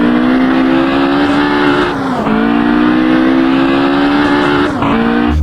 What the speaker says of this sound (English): the sound sample used for the engine isn't the best